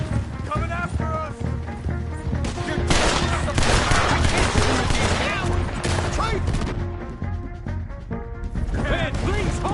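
Gunfire in Red Dead Redemption 2 rings out as a dense, loud fusillade with crashing impacts and shouting voices over it, most intense in the middle and continuing throughout.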